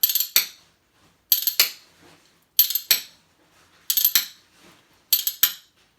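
Metal musical spoons clicked in a steady repeating pattern, five bright double clacks spaced about a second apart, played alone and close with quiet gaps between, mixing hand taps with leg taps.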